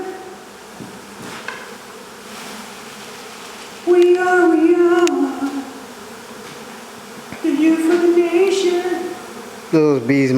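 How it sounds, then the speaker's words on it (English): Honey bees in an indoor hive under removal in Mission, Texas, giving a steady buzzing drone throughout, with people talking briefly over it in bursts. "Those bees marching"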